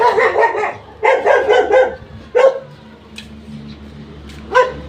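A dog barks close by in quick bursts, a cluster of three or four sharp barks, then single barks spaced out with quiet gaps between.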